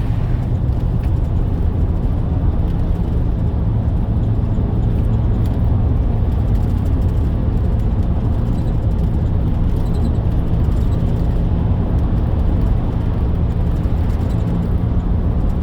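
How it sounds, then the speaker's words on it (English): Steady, loud road rumble from inside a moving car on Interstate 75 northbound near Atlanta, a constant low roar of tires and engine with no breaks. "we're going to roll up the window, cut out a lot of this road noise"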